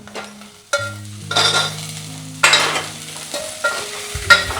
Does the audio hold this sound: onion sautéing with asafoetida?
yes